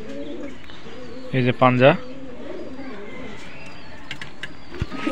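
Benaras Azan breed and Pakistani high-flying pigeons coo faintly in the background while someone speaks briefly and close.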